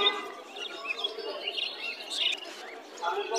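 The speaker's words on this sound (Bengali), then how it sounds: "এখানে একটা দেখতে পাচ্ছেন আপনার সিলভার জাবা, এটা হচ্ছে আপনার রানিং পেয়ার।" Silver Java sparrows chirp at the Mirpur 1 bird market, a close, busy run of short overlapping tweets and calls over about three seconds.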